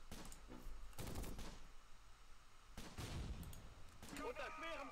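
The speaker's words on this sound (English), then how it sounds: "mortars, mortars, mortars, mortars, mortars, mortars." Mortar fire in the WWII strategy game Close Combat: a series of heavy blasts and rumbling impacts arrive in bursts, with brief quieter gaps between them and a busy battlefield din underneath.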